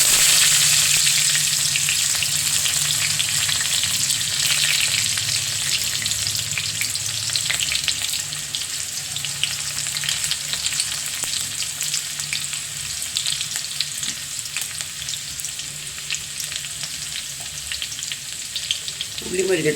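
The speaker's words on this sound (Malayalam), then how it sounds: "അപ്പോഴേക്ക് നമുക്ക് ഉള്ളി ഇട്ട് കൊടുക്കാം." Chopped onions frying in hot coconut oil, a steady close sizzle with a constant hiss and occasional stirring scrapes, going on without a pause and without talk.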